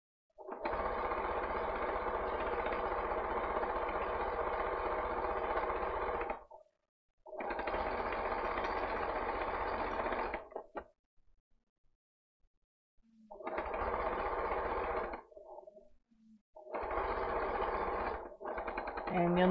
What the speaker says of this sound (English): the sewing machine really pulls the fabric through